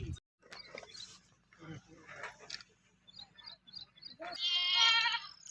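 Goats and sheep bleat at a devotional gathering on a farm by a village road. Short cries come from a moderate distance amid crowd voices and chanting.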